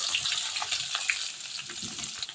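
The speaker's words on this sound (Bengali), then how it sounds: "এখন আমি পেঁয়াজ কুচি আর রসুন কুচি দিয়ে দিব।" Chopped onion and garlic sizzle in hot oil in a wok alongside black cumin seeds, dried chillies and bay leaves, a steady close crackling hiss with small pops and no talking.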